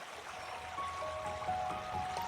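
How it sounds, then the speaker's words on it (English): A gentle current of the clear Orinoco River flows past at close range with a steady, soft rush of moving water throughout, and a few faint thin tones sound over it. "I floated away on the crystal clear waters of the river, letting the gentle current guide me"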